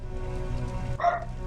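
A single short dog bark rings out in the Terminator: Resistance video game, sharp and close over a low steady ambient rumble.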